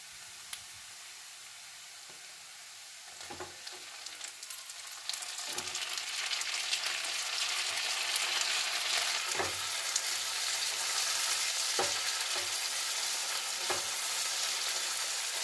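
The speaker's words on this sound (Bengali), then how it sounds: "দেখো পেঁয়াজটা বেশ ভাজা ভাজা হয়ে গেছে" Steady sizzling of onions frying in a pan, growing louder partway through, with occasional sharp clicks of a spatula stirring.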